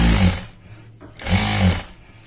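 A sewing machine stitches a folded fabric strip in two loud, close bursts of rapid mechanical whirring with a short pause between them.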